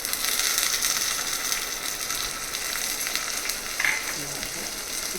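Onions frying in a pan for Telangana-style mutton paya soup, a continuous bright sizzle with occasional stirring scrapes, close and steady.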